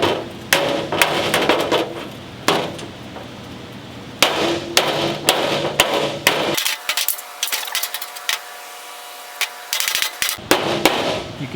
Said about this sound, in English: That's me hitting on the dolly versus off the dolly.